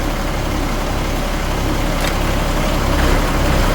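A Deuce military truck engine runs in gear after a rear main seal replacement, giving a steady, loud, low rumble with a constant drivetrain hum and no pauses.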